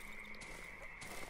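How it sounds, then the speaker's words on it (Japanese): Frog croaking in the horror survival game Darkwood, heard in a swamp area as a steady low buzzing croak under faint ambient game noise, with no talking. "カエルかな？"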